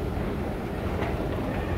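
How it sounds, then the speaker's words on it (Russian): A train rumbles into a station near Amsterdam at a distance, a steady low clatter and hum with faint metallic squeals, no voices. "Прибывает поезд"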